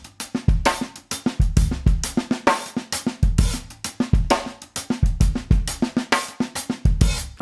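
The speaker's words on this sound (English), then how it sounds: "Now, if we're playing our traditional Purdy shuffle, it sounds like this." A Purdie shuffle groove on a drum kit: steady repeating kick and snare hits under a busy hi-hat pattern, loud, close and continuous, with no talking.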